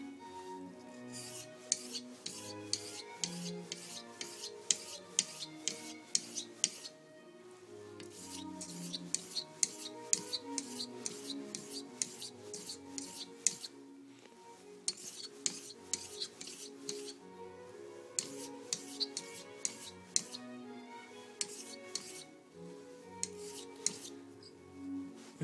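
A knife blade's bevel is reset on a whetstone with quick, rhythmic rasping strokes in bursts, separated by brief pauses, close up and fairly quiet, with no talking.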